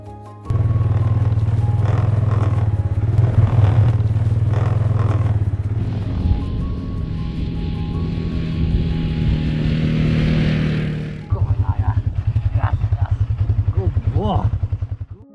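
A quad bike rides across a cultivated field with a Ridgeback dog, its engine a steady loud rumble that shifts in pitch midway, then returns with a rougher, pulsing chug near the end.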